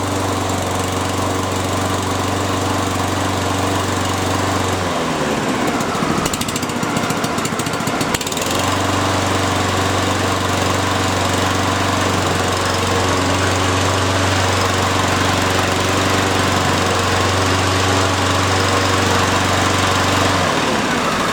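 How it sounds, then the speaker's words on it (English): A HYM530SPER engine runs loud and steady with a constant drone, cuts to a brief rough sputter midway, then picks back up to a sustained full-speed roar. "I'll pull back on the lever and start the engine."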